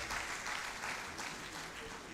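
Applause from the audience at a university convocation ceremony, a soft, steady patter of clapping from a crowd, fairly distant and continuous throughout the short moment.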